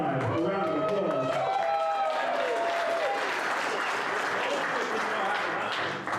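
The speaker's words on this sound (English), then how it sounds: "give Johnny 5 Alive a round of applause" Audience applause at a SecKC security meetup for Johnny 5 Alive, sustained clapping and crowd cheers throughout, mixed with voices.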